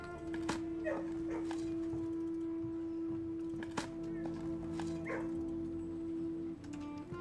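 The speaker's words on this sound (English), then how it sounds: "Look, Chad, it's a dog." A dog in the video game Blue Prince gives a few short, soft barks and yips over a steady low musical hum, with a sharper bark near the middle.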